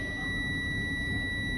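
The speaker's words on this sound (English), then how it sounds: "My low air warning light and buzzer came on at 76 PSI." A truck's low-air warning buzzer, triggered at 76 PSI of brake air pressure, hums as a steady electronic tone inside the cab, with a low engine rumble underneath throughout.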